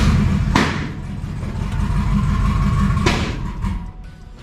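A twin-turbo LS-powered Fox-body car with 3.55 gears starts up, giving a steady, loud low engine rumble, with a sharp thump near the start and another about midway.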